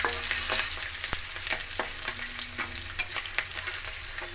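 Panch phoron spice mix fries in hot oil with chopped green chilli, a constant close sizzle with repeated scraping stir strokes and light clinks, no talking.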